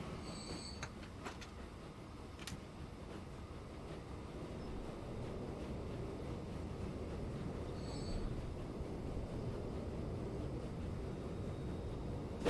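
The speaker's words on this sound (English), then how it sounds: "let's go a bit of a train ride" A train rolls along the track in the Transport Fever 2 video game, a steady low rumble of wheels with a few faint high squeals near the start and later, quiet and continuous.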